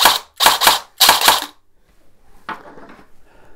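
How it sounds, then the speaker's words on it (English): A version 3 airsoft AEG gearbox cycling on battery power, heard as three loud, close bursts of rapid mechanical clatter in quick succession, followed by quieter rattling and handling noise. "We've hooked it up to a battery so the gun will cycle."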